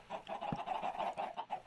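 Chickens clucking in Minecraft, a dense crowd of birds packed into a chicken XP farm, giving overlapping rapid clucks that run continuously and fairly close, with no talk over them.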